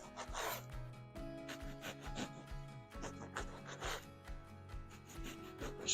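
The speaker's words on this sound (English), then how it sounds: "Next up is just cutting our challah into some nice thick slices." Knife sawing through a loaf of challah bread into thick slices, a close series of rhythmic rasping strokes repeating every half second or so, quiet and with no voices.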